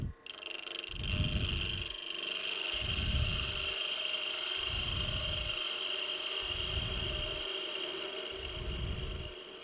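A wood lathe spins at higher speed while a spindle gouge faces the workpiece, a steady high whine carrying through as the tool bites in five regular rasping bursts, close and alone.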